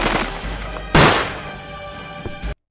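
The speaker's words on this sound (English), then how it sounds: "why am I hearing two different types of gunshots go off?" A single sharp gunshot cracks out loud and close, then decays over a couple of seconds amid a lower background rumble.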